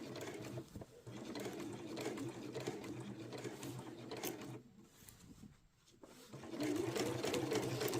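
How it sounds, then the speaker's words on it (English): A sewing machine back stitches a quilted hot water bottle cover, giving short bursts of fast, close mechanical whirring and clatter that stop briefly before starting again. "So I'll just do a few back stitches there."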